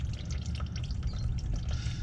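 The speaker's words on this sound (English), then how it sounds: "you can see how thin it is though, as it pours out almost like water because it's warm." Warm, thin engine oil draining from an engine into a pan, a continuous watery pouring and dripping stream, close and moderately quiet, with no talk.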